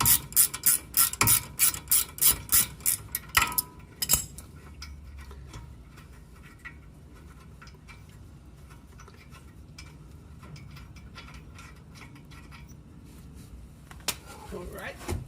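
A ratchet loosens the lower 17 mm caliper bracket bolt on a 2016 Kia Soul during a brake job, with a quick run of close, rapid clicks up front, then mostly quiet workshop noise and a short burst of handling at the end.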